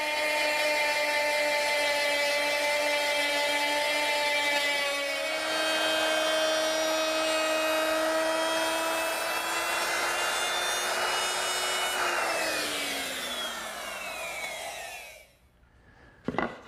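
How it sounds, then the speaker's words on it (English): A router with a 3/8-inch cove bit mills the edge of a wooden drop-leaf table leaf, giving a loud, steady high-pitched whine with harmonic tones that shifts pitch as it cuts, then spins down and stops near the end. "now I'm going to mill the corresponding edge of the leaf with a 3/8" cove bit"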